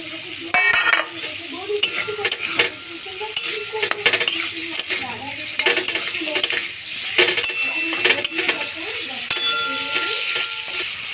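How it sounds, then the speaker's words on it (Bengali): Fried potatoes go into a pan of cooked spice masala and are stirred, with a steady sizzle under repeated metallic scraping and clinks of a spatula against the pan, close and fairly loud. "এবার আমি ভাজা আলুটা দিয়ে দেবো।"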